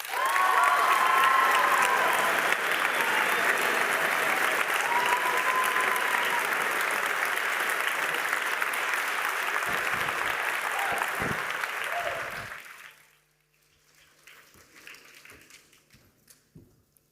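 An audience applauds loudly and steadily after a talk at a youth event. The clapping fades away after about twelve seconds, leaving a few scattered claps and quiet room noise.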